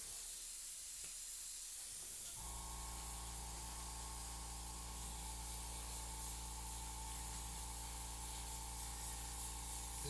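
An airbrush sprays paint, a steady close hiss of compressed air that starts a couple of seconds in and runs continuously after a short quieter stretch of faint rubbing.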